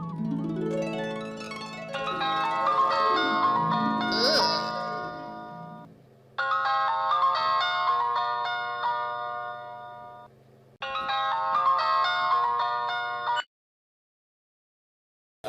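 Phone call ringback tone, a repeating electronic melodic ring in bursts with brief gaps between them, loud and close, ending in silence.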